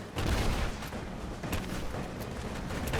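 Covering gunfire in Rise of the Tomb Raider, a sustained fusillade of overlapping rapid shots with booming low impacts, dense and continuous throughout.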